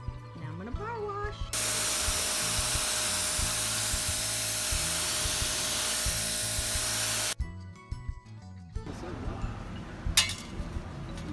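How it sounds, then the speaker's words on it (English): A pressure washer blasts a dusty patio after cleaner is sprayed, a loud continuous hissing spray of several seconds that stops abruptly, followed by quieter clinks and handling noises. "Now I'm going to power wash."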